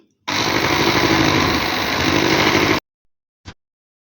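An electric mixer whips condensed milk with chocolate in one loud continuous whirring burst of about two and a half seconds that cuts off sharply, then a brief faint click.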